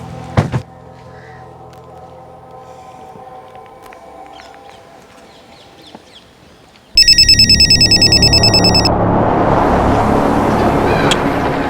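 A telephone ringtone bursts in loud and electronic, a repeating tone pattern that starts abruptly after a stretch of quieter background sound and a single sharp knock.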